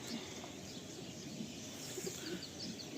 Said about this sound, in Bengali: এই এক জোড়া দেখাচ্ছে আমার টিক্কি লাইনে কালো পায়রা